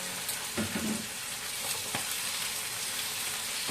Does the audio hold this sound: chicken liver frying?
yes